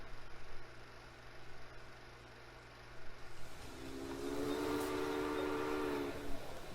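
A train runs in the railway strategy video game Railway Empire, with a low rolling rumble under a sustained horn or whistle tone that sounds for about two seconds.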